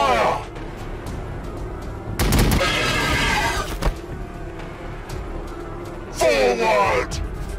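Gunfire in the Warhammer 40,000: Battlesector strategy game, bursts of shots and booms in two loud volleys with a rumbling battle backdrop, under game voices shouting orders.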